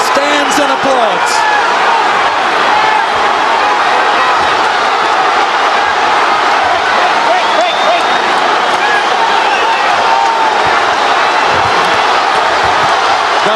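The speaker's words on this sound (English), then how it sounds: "And the crowd stands and applauds." Boxing arena crowd on its feet applauding after a hard-fought bout, a loud, sustained roar of clapping and cheering under an announcer's commentary.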